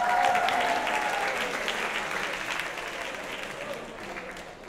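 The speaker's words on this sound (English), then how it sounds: "so let's give all of them a round of applause." Steady, loud audience applause for competing bands at a music prize presentation, a thick wash of clapping that slowly fades over a few seconds.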